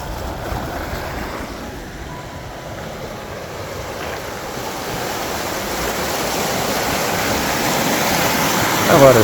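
Fast-flowing water of the Colorado River near its headwaters in a Rocky Mountain National Park meadow rushes in a steady, loud broadband roar that swells slightly toward the end, with no voices.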